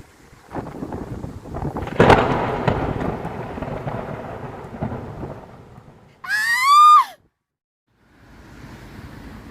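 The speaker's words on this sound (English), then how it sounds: "But this wind is relentless." Strong, relentless wind with rain outdoors on building scaffolding: gusts roar and buffet up close, with a brief high warbling tone partway through, before dropping to a quieter rush.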